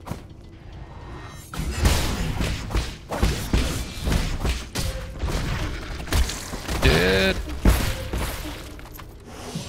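Repeated heavy blasts and crashing impacts from explosions in the video game Nine Sols, punctuated by whooshes, with a voice talking intermittently between them.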